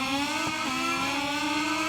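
Motorcycle engine revving on the grid at a race start at Silverstone in the MotoGP 21 video game, a steady loud high-pitched drone with rising and falling revs throughout, no talk.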